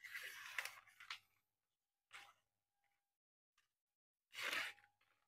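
A freshly sharpened K110 steel knife slices through newspaper in a few short, crisp tearing bursts separated by silence, close and fairly clear.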